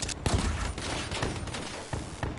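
Pistol fire in Call of Duty: Black Ops III, a two-shot burst weapon, cracking out in repeated sharp reports over dense, noisy game-mix background throughout.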